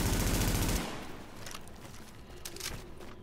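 Gunfire in Tom Clancy's The Division video game: a dense burst of automatic fire opening the clip, cutting off after under a second, followed by fainter scattered shots and rumble.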